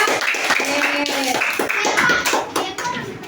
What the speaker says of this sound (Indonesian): beri tepuk tangan untuk Jepang